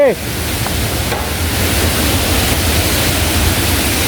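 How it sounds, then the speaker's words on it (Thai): A small waterfall in Phu Hin Rong Kla National Park gives a steady, loud broadband rush of falling water that stays even and continuous from start to finish, with a brief voice right at the start. "ตรงนี้ก็เป็นน้ำตกน้อย"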